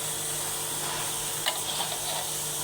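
Bottle gourd curry frying in a pan, cooking in its own released water without added liquid, giving a continuous close hiss with a faint stir or scrape partway through.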